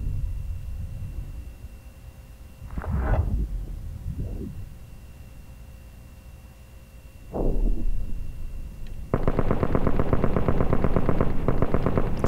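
Loud automatic gunfire bursts from Call of Duty: Advanced Warfare, with two short volleys echoing and fading, then a sustained rapid stream of rounds that runs on to the end.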